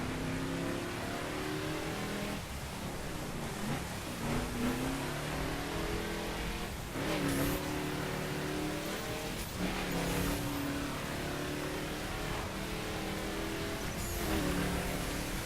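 A Chevrolet Impala muscle car engine in the racing game The Crew, driven in rain, revs and climbs through the gears continuously with steady engine drone and rain noise.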